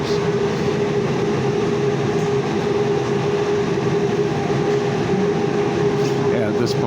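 Steady low rumble and drone inside a moving Valley Metro streetcar in Tempe during a dust storm, with a constant hum throughout and faint murmuring in the background.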